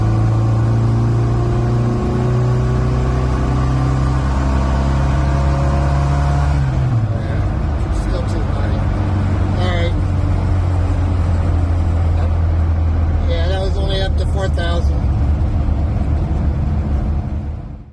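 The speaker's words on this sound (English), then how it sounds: "Full power run in third gear." Car engine under a full-power run in third gear after fitting a BDL needle and yellow spring, a loud sustained rising drone for about seven seconds, then dropping into lower rumbling with intermittent higher whines toward the end.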